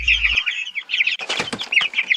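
Hens and roosters on a farm cluck and chirp in repeated bursts, with some wing flapping midway, fairly close and unaccompanied by talk.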